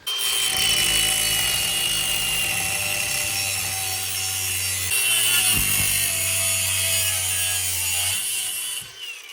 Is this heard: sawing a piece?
yes